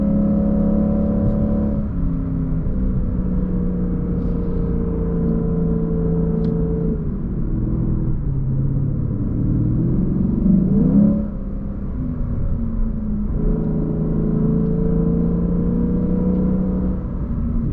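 Engine of a 2024 Lexus IS 500 F Sport Performance while driving: a steady, moderately loud interior rumble with the pitch rising and falling through shifts and throttle changes, no talk.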